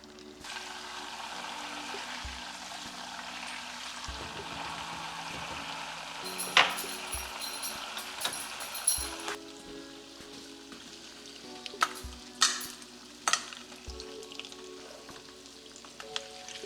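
Butter melting in a pan for brown butter, a faint crackling sizzle with scattered pops and small taps, close and quiet, with no talking.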